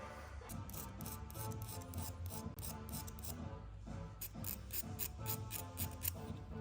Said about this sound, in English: we have to clean up the edges with something like this, very small tool, and we have to take off the dirty edges